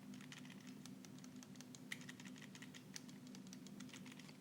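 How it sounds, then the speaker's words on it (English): Shoulder buttons and triggers on a Backbone One phone controller click rapidly and softly in a quiet room, a faint stream of small taps with a couple of sharper presses. "I do like how quieter the shoulder buttons and the triggers are compared to other gaming controllers"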